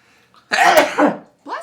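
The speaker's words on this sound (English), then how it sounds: "I got your second sneeze, don't you worry." A sharp, loud sneeze bursts out close by, with a brief intake before it and a second short burst trailing right after, in a quiet room during a tabletop game session.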